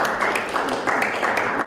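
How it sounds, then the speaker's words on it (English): Applause from an audience after Ohio Governor Mike DeWine signs property tax reform bills, a short burst of steady clapping from a modest crowd of several people. "Applause and handshakes after Governor Mike DeWine put pen to paper, signing 5 property tax reform bills into law"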